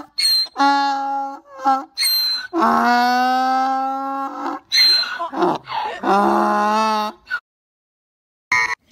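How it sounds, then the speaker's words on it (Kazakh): A donkey brays loudly and close, with repeated harsh, wheezing hee-haw cycles that rise and fall in a long run, then a brief pause near the end. "Бұл есек. Есек аңырайды."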